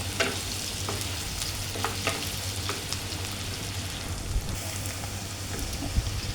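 Onions frying in a pan in a home kitchen, a steady close sizzle with scattered sharp pops and crackles and a low constant hum underneath, no voices.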